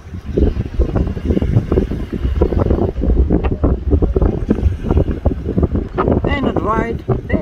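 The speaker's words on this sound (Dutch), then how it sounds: "En het waait best." Strong gusts of wind buffet the microphone in heavy low rumbles, with people talking throughout over the roar.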